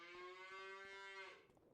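A single long, loud cow moo from Farming Simulator 25, steady and droning for over a second before fading into faint background farm noise, with no talking.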